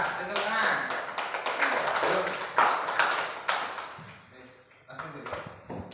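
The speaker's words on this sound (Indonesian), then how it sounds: "Tepuk tangan." Schoolchildren in a fifth-grade Islamic religious education class clap together on the teacher's cue, a dense burst of many hands patting over several seconds that thins out toward the end, with voices mixed in.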